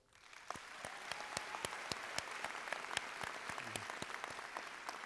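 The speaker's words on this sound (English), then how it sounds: "Could we give our friends and family a round of applause?" Audience applause at a college commencement ceremony for graduates' friends and family, a dense, steady wash of many hands clapping that swells quickly and holds for about five seconds with no voices.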